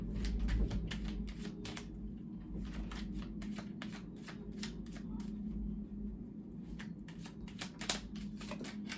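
Tarot cards shuffled and flipped during a reading, a quiet run of crisp riffling snaps and soft slaps repeating steadily over a low background hum.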